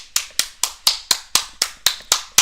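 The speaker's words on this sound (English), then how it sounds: "Round of applause to y'all." A single person claps close by in a slow, even rhythm, about ten sharp, loud claps with short gaps between them and no voices.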